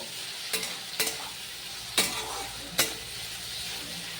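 Potatoes and peanuts frying in a pan, a soft constant sizzle punctuated by four sharp spatula scrapes at uneven intervals, close up and without speech.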